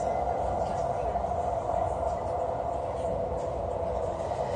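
A train rolling through Los Angeles gives a steady, low rumbling hum heard from inside the carriage, with continuous mid-range drone and no breaks.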